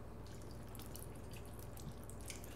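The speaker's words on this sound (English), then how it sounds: "Here's a water bottle, and I will put some water on the washcloth." Water poured from a plastic water bottle onto a washcloth gives a steady, continuous trickle and drip at close range, with no talking over it.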